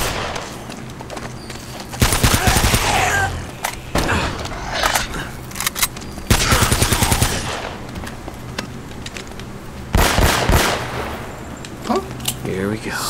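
Enemy sniper gunfire in Uncharted: Drake's Fortune Remastered on PS4 comes in loud bursts of shots and crashing impacts at intervals, mixed with game sounds and a voice between volleys.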